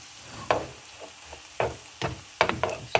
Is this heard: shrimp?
yes